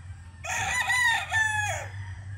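A single rooster crows once nearby, a loud drawn-out call lasting just over a second, over a low steady background hum.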